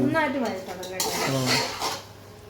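A spoon scrapes and clanks against a pot while onions are stirred and sautéed for a Kerala-style chicken curry. The clattering metal strokes come close and loud, and a voice is heard faintly underneath.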